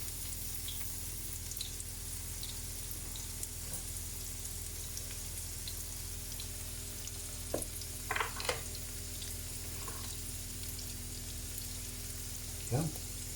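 Shallots that were boiled and peeled fry and brown in a pan, giving a quiet, steady sizzle throughout with a few faint clinks of stirring.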